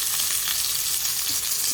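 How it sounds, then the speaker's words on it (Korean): A pot of Korean seaweed soup (miyeokguk) cooks on the stove with a steady, close hiss and sizzle and fine bubbling throughout, no voices. "미역국을 끓이고 있어요."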